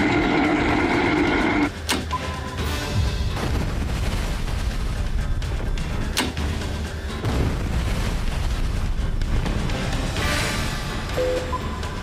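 A loud, rumbling explosion from a 1998 disaster film involving a self-destruct command, with sharp blasts breaking through a continuous roar that carries on for the whole stretch.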